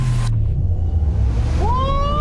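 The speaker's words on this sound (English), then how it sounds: "This is a Blazer EV SS. Let's see what wild mode can do." A Chevy Blazer EV SS accelerates hard in wild mode, a deep road and tire rumble under a rising electric-motor whine that climbs in pitch near the end, loud and close from inside the cabin.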